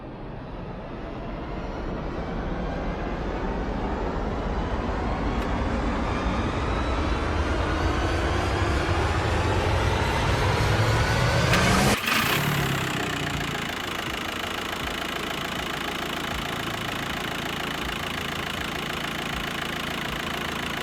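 A car engine cranks and catches, revving loudly before settling into a steady, rough idle that continues to the end.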